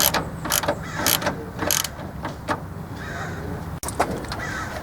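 Ratchet clicking as a 10mm bolt is cinched down on a 2001 Toyota RAV4 during coil and spark plug work, a run of close, sharp ratcheting bursts with a pause and a brief final click series.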